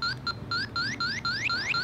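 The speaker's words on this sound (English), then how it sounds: "It smells refrigerant leaks. That's a normal beep." An electronic refrigerant leak detector beeps in a quick, regular series of rising chirps, close and clear over a steady low hum.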